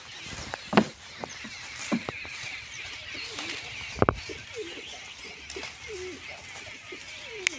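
Pigeons kept in a loft coo softly and repeatedly at close range, with occasional wing flutters and footsteps over a steady background hiss.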